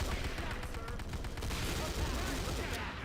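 Rapid gunfire in the shooter video game Fire Warrior, bursts of automatic shots rattling under a continuous noisy game soundscape, moderately loud and steady across the moment.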